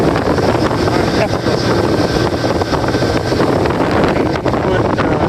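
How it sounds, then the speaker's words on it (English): A Parsun F130 EFI outboard motor drives a Tracker V18 Tournament bass boat at cruising speed, a loud steady roar mixed with heavy wind buffeting the microphone throughout. "Yeah, still cruising along. The motor is so strong."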